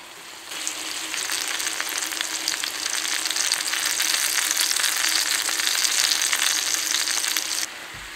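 Asparagus sizzling in a pan over a wood fire, a steady loud frying hiss that runs almost unbroken for several seconds before easing slightly at the end.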